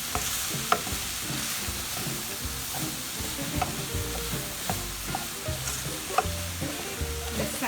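Stirring and mixing stuffed turkey stuffing made with cubed bread and vegetables, a steady scraping and clattering of a spoon through the mixture with a soft sizzling hiss underneath, continuous and close with no talking.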